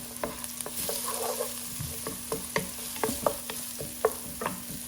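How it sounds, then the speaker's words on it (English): Chopped onion frying in oil is stirred in a pan, with a soft continuous sizzle punctuated by repeated quick scraping strokes of the spoon, fairly close and without speech. "we're just going to give it a quick stir so the oil coats it"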